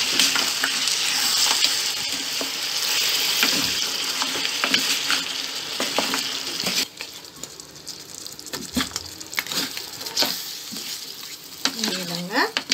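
Pumpkin halwa with jaggery is stirred in a pan, a continuous crackling sizzle with repeated scraping strokes of a spoon, loud and close, easing slightly in the second half.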